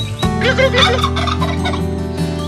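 A turkey gobbles loudly and close, a rapid rattling warble lasting about two seconds.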